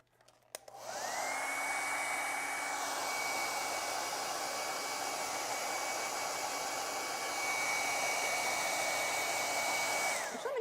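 A hair dryer runs steadily to dry acrylic paint on a lion-fur painting, switching on after a brief click and holding a loud, even whir with a constant tone for about ten seconds before cutting off.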